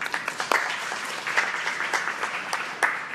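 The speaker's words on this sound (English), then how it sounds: "a round of applause" Audience applause at a Mercedes E-Class tech and safety briefing in Dubai, a moderate round of clapping from a room of people, steady and close, lasting a few seconds.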